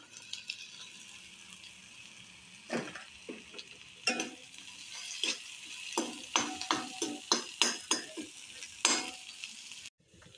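Potato pieces frying with browned onions in a pan, a quiet sizzle under a run of spatula scrapes and clinks against the pan, loosely rhythmic, close and fairly soft.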